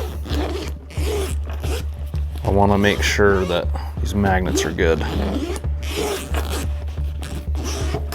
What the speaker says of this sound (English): going over these corners with these zippers